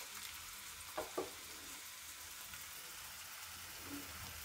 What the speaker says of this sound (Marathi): 1-2 मिनटं आपण फ्राय करून घेऊया.